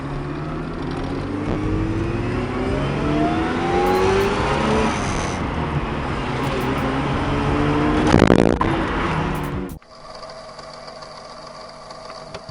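A Mazda RX-7 FC3S driven with a manual gearbox, its engine note rising and falling through several gear changes from inside the car, loud and steady, then cutting to a much quieter cabin near the end.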